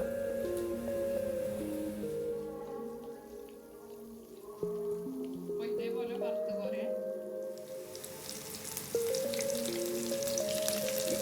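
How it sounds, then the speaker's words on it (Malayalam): Oil sizzles and crackles steadily as a snack fries on low heat, a continuous hiss with a brief swell of bubbling partway through and a voice talking over it. "നമുക്ക് എണ്ണയിലിട്ട് ചെറിയ തീയിൽ വെച്ചിട്ട് വറുത്ത് കോരാം"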